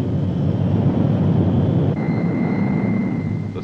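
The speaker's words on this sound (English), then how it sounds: "The C-130 Hercules, newest and most versatile addition to the Navy's air fleet, provides an efficient lifeline between the isolated stations and the coastal support base" A C-130 Hercules military transport aircraft of the Navy's air fleet, resupplying inland stations in Antarctica, gives a loud, steady, broadband drone that holds for the whole stretch without a break.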